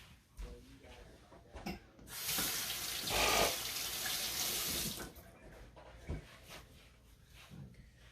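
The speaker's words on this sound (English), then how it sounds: "Let me wash my hands." A kitchen sink tap runs steadily for about three seconds as hands are washed under it, the water hiss rising then cutting off, with faint clatter and soft background sounds around it.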